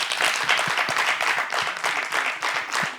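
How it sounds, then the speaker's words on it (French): Applause during a debate broadcast, a steady wash of clapping with some distinct individual claps, fairly close and continuous. "Ça s'applaudit, les filles"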